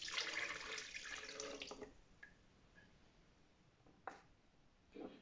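Warm water poured into a bowl with gluten-free sourdough starter for bread dough: a steady splashing pour for about two seconds, then quieter trickling with a couple of faint drips, close by.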